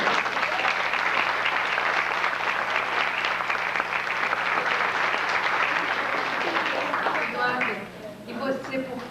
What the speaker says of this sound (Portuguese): podem aplaudir agora